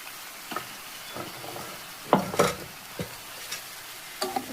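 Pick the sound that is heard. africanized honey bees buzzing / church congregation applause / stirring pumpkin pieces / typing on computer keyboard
stirring pumpkin pieces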